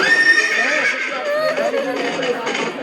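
Horse neighing loudly and close over a steady rumble of hooves, part of an army approaching in a Hindi devotional stage drama, with a dense cluttered background throughout.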